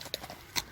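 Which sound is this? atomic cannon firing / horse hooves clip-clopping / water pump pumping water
horse hooves clip-clopping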